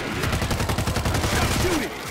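Rapid automatic gunfire in the zombie shooter World War Z, a dense burst of repeated shots fired close and loud for about two seconds, with faint game sounds behind.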